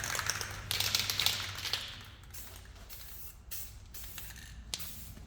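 Black spray paint hisses onto a trailer in short bursts, first a longer spray then several brief taps of the nozzle, close by with no talking.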